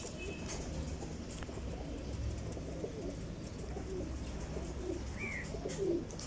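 Desi pigeons coo softly at a distance in a loft kept for flying competitions, with a low, steady background murmur and a few faint calls scattered through the scene.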